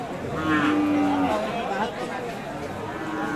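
Cattle moo at a busy Bangladeshi cattle market, a drawn-out low call rising over steady crowd chatter and nearby voices.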